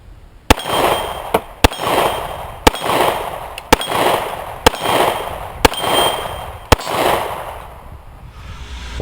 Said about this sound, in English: These lightweight compact 45s can be a challenge to shoot.